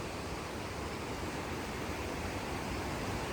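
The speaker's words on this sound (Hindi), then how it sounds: "तो ये खूबसूरत सा वाटरफॉल आपको देखने को मिलेगा नमलन शेरी के खूबसूरत से एरिया में, और आज पानी का फ्लो भी काफ़ी अच्छा है" Namblan waterfall in Sheeri, Baramulla, pouring with a strong flow, a steady, dense roar of rushing water that stays close and loud without a break.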